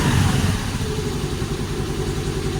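A cold Honda Navi motorcycle engine idles at about 1200 RPM, a steady, close, low-pitched running sound with no speech.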